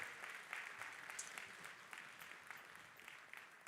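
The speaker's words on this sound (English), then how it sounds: "So great round of applause for those folks as well." Audience applause at a middle school winter band concert, a steady wash of many hands clapping at a fairly soft, distant level, continuing unbroken without voices.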